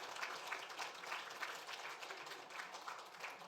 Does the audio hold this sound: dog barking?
no